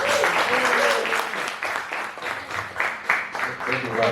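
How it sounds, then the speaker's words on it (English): An audience claps after a lecture on perceptions underlying road use, giving a loud, dense round of applause throughout with voices mixed in. "Oh, let's clap for our senior."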